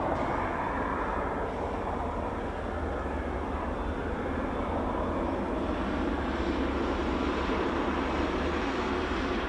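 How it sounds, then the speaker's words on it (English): Steady, continuous drone of a turboprop aircraft with a PT6 engine, likely a de Havilland DHC-6, at an air show, a dense unbroken roar of engine and airflow at even loudness throughout. "if you're going to have a look at the de Havilland 6 or any aircraft that have the PT6"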